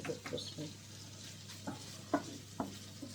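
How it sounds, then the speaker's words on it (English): Bacon fries in a pan while being stirred, a soft sizzle broken by several sharp scrapes and clinks of the utensil against the pan at irregular intervals, close by. "Just got bacon with a stir. I'm going to turn it up a bit because I just like it a bit crispy"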